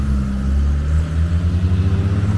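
A Jaguar 4.2 E-Type engine drives past close by, its loud, deep, steady rumble rising slightly in pitch as it revs, with no talking.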